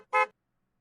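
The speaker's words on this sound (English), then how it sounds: "A car honks its horn." A single short car horn honk in the Steins;Gate visual novel, loud and close, one blast lasting about a fifth of a second, then silence.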